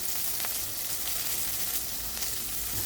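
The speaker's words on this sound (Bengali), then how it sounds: "এখন আমি কুচিয়ে রাখা সবজিগুলো একে একে দিয়ে দিচ্ছি। তো সবজিগুলোকে দিয়েও আমি ভালো করে ভেজে নেব" Chopped vegetables fry in hot oil with cashews and raisins, giving a steady, close sizzle that hisses evenly throughout with no pauses and no voices.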